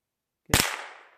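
A single sharp crack from a Sure Shot single-shot .22 rifle fired at a target 15 yards away, loud and close, its report decaying quickly into a brief outdoor tail.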